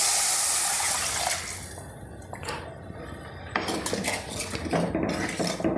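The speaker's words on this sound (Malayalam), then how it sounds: "ഈ സമയത്ത് നമുക്ക് പുളിവെള്ളം ഒഴിച്ചു കൊടുക്കാം" Tamarind water, soaked in hot water beforehand, is poured into a cooking pan for a Kerala-style curry. Liquid splashes and gurgles briefly between clinks of metal utensils, close up with no talk.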